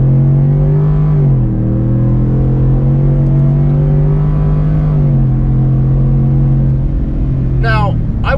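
A retro-styled 1980s Ford F150 pickup truck accelerates hard, its engine droning steadily and close with slight pitch shifts as it gathers speed, a brief higher whine near the end.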